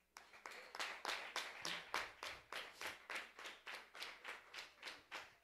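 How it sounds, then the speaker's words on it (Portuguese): A church congregation claps in praise of the Lord: rhythmic, unison clapping in a steady beat of roughly three claps per second, close and distinct, each clap sharp with a brief decay. "Você pode aplaudir o Senhor?"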